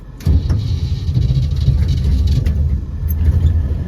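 A Chevy Nova runs and drives, its steady low engine rumble and road drone starting abruptly after a brief quiet moment and holding loud and constant throughout, with no talking over it.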